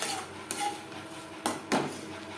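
Poppy seed paste being stirred in a wok, with a few sharp scrapes and clinks of a utensil against the metal at uneven intervals over a low background hiss.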